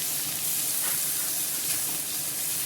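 Onions frying in butter in a pan give a steady, close sizzle and hiss that holds at an even level throughout, with no talking.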